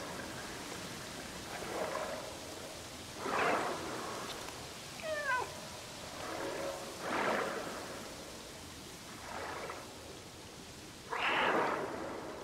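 A cat in the video game Stray meows a few times, faint and spaced out, over a soft steady bed of rain with occasional rumbles.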